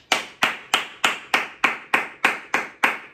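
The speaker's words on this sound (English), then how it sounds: "round of applause." Two hands clap ten times in a steady, even rhythm, each clap sharp and close with a short decaying tail, with no voices.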